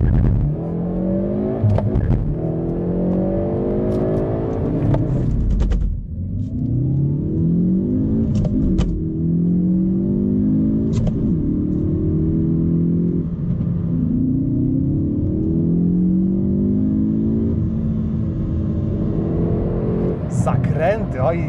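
A 2019 Hyundai i30 N Performance Fastback, 275 hp, revs and pulls away gently, rising in pitch through the gears with a steady rumble, while someone talks over it throughout.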